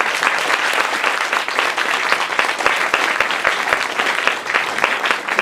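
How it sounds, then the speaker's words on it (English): Loud, dense applause from an audience after a talk on Syriza's political and economic objectives, a steady wash of many hands clapping close and continuous throughout. "let's give a round of applause"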